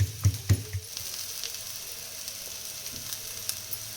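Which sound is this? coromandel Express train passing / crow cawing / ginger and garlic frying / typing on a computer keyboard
ginger and garlic frying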